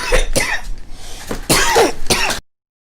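A run of harsh, repeated coughs, four or five loud bursts with short gaps, close and fairly loud, ending abruptly.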